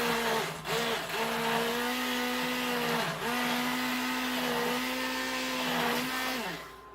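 An immersion blender whirs steadily and loudly through soft cooked food, its motor pitch dipping briefly a few times as it works, then winding down at the end.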